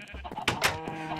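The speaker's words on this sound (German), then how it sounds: "Oh, ein rosa Schaf." A pink sheep in Minecraft bleats in a short, clear burst, fairly close and loud, with faint game sounds around it.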